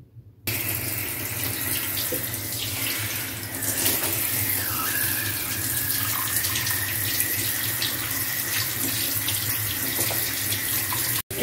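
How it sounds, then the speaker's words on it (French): Tap water runs steadily into a sink while hair is rinsed free of L'Oréal Préférence colour, a continuous close hiss that persists through the whole stretch with no one talking. "je vais me rincer les cheveux"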